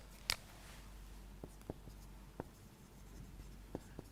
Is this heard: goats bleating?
no